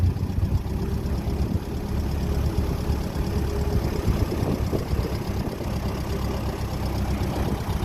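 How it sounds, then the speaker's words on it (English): A 1957 Ferguson 35 tractor with a TVO engine runs steadily nearby, a low, throaty, evenly pulsing idle with a slight knocking rhythm, continuous and unbroken. "Engine sounding lovely, brakes are good."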